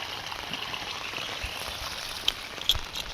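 Floodwater after heavy rain rushes steadily through a farm field with a constant broadband wash, a few louder splashes rising briefly near the end.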